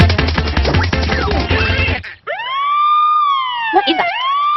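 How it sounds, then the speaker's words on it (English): A police siren wails loudly, sweeping up and then falling in pitch as it passes close by, following a burst of busy noise. "The sound of the siren rises, then falls away."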